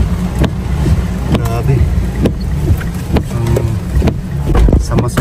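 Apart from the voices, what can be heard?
strong wind and rain during a typhoon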